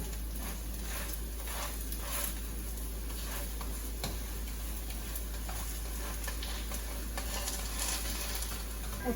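Adai, a lentil crepe, frying on a hot pan gives a steady, even sizzle and crackle that lasts throughout, with no one talking.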